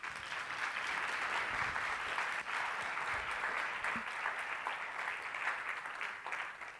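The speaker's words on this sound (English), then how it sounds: "Give her a round of applause." An audience at a communication seminar claps for a participant in a steady, moderately distant round of applause. The many hands sustain it evenly for nearly seven seconds before it begins to thin out.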